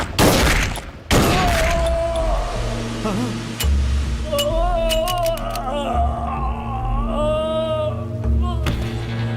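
Pistol shots in a Hindi-dubbed South Indian action movie, a sharp loud burst of gunfire near the start followed by booming dramatic score and whooshing effects.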